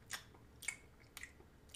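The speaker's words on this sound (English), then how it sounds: "I'm chewing on this banana." Someone chews a banana close to the mic, giving three soft, wet bites spaced about half a second apart in otherwise quiet surroundings.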